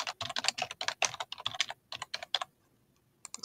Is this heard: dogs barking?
no